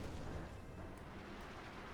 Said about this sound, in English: Artillery called in here by the Panzer IV.